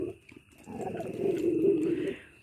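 Dogs at night near a shop and a bonfire give a rough, growling bark that swells and holds for over a second before fading, moderately close, with faint background noise.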